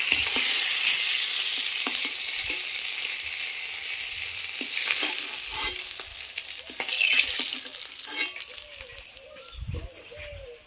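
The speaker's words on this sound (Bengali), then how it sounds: "মাছগুলো আমার সব ভাজা হয়ে গেছে, আমি সব তুলে নিচ্ছি" Rohu fish frying in oil in a pan gives a steady crackling sizzle up close, with occasional utensil clinks as pieces are lifted out and pigeons cooing faintly in the background.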